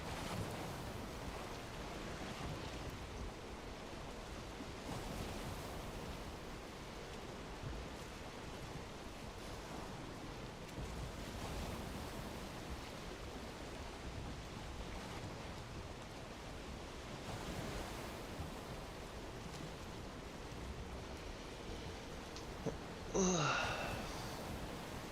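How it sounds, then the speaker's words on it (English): Ocean surf in modded Valheim, a steady soft wash of waves with gentle swells rising and falling throughout, fairly quiet, with a brief sharper whoosh near the end. "Got some nice peaceful ocean noises"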